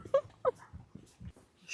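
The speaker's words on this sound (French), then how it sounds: "Les petits chiens sont de la partie." Small dogs whimpering faintly, a few short high whines spaced apart, with light handling noise and other quiet sounds between them.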